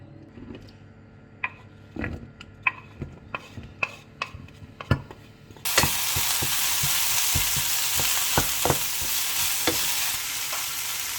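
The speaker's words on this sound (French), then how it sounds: "je vais faire revenir l'ail et l'oignon ensemble. Je mets un petit peu l'huile." Garlic and onion hit hot oil midway, bursting into a loud steady sizzle; before that come scattered knocks and clinks of pan and utensils, and sharp scraping stirs punctuate the frying.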